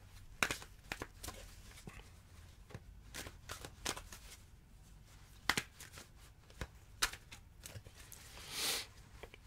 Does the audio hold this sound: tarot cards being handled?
yes